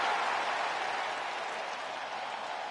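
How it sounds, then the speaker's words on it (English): Crowd ovation in the WWE 2K26 wrestling video game: a dense, loud wash of arena cheering and applause holds steady throughout, with no voices standing out. "this ovation's so loud"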